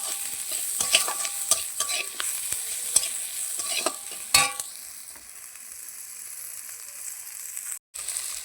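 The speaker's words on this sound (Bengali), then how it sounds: "দিয়ে ভালো করে কষিয়ে নেব।" A spoon stirs meat curry in a hot pan with salt and ginger paste, scraping and clattering over a steady sizzle; the stirring stops partway and the frying continues alone, close up.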